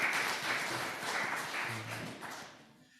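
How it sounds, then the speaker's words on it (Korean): Short round of applause from a church congregation at an Easter Sunday service, dense clapping in a reverberant hall that tapers off and stops after about three seconds. "진심으로 박수로 축복했으면 좋겠습니다."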